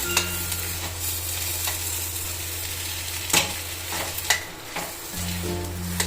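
Dabeli masala with pomegranate seeds sizzles in a pan while a spoon stirs it, a steady frying hiss with a low hum and a few scraping knocks from the spoon, close up and with no voices.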